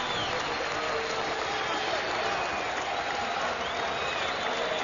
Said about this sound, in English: the crowd showing its appreciation